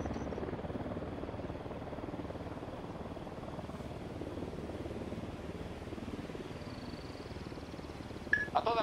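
A helicopter in Ghost Recon Wildlands thrums steadily as it approaches, a continuous low rotor drone held at even loudness throughout, with a brief sharp sound near the end.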